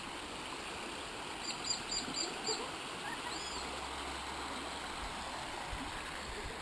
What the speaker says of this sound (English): Well, there's a little river.